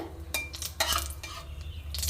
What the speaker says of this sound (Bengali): খুব সামান্য কালো জিরে ফোড়ন দেবো বেশি দেব না আর একটা শুকনো লঙ্কা একটু ছিঁড়ে দেবো